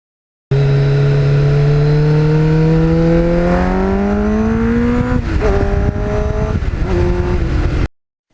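A 1989 Kawasaki GPX750R Ninja motorcycle engine while riding, loud and close, climbing steadily through the revs, then briefly dipping for gear changes before pulling again and cutting off sharply.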